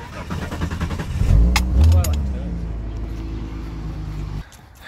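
A cheap VS skid car with a slipping gearbox revs and spins nearby, its engine swelling and dropping in a rough, continuous drone before cutting away, with voices underneath.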